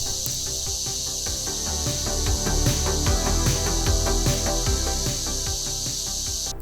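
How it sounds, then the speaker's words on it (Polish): Cicadas sing in pine trees on Zvernec island, Albania, a loud, dense, continuous high-pitched buzzing chorus with rhythmic pulsing and low rumbling underneath, no voices. "Wyspa jest pokryta sosnami, w których mieszkają chyba miliony cykad."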